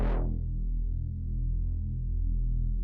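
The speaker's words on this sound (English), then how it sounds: "this is the Reese I'm going for, and this is going to be our mid-range in the bass" A Reese bass synth patch in FL Studio for a liquid drum and bass track, playing a thick, sustained detuned low tone with a bright attack that quickly darkens into a steady, gently phasing rumble, heard alone.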